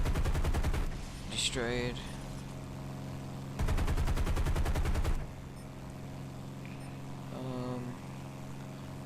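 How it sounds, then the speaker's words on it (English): Twin bursts of .50 caliber machine-gun fire from a P-38 fighter in the War Thunder game rattle loudly over a steady engine drone, with a short radio-style voice between them. "These 50 cals are so good."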